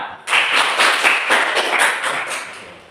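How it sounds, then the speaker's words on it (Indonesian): A classroom of students applauding together at the end of group presentations, a dense burst of many hands clapping that starts sharply and slowly fades over a few seconds, with no talking. "Oke, tepuk tangan ya."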